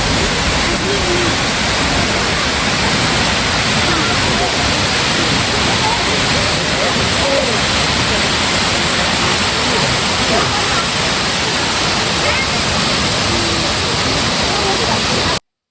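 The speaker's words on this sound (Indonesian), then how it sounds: "Dan inilah suara gemuruh air terjun Nglirip" The Nglirip waterfall roars continuously and loudly, a dense, unbroken rush of falling water close by that fills the whole stretch without pause.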